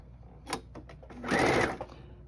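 A sewing machine makes a short burst of stitching as triangles are sewn onto a quilt block, a close whirring run of about half a second after a few soft handling clicks.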